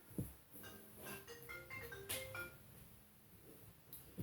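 A mother's call comes in on a phone, its ringtone playing a faint, quiet melodic run of tones with a soft tap or two around it.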